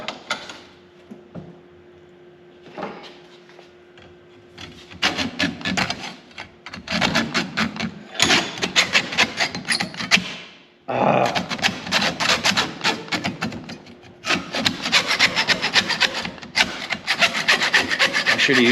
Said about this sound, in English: If you ever cut brass with a hacksaw, you know it's not that easy.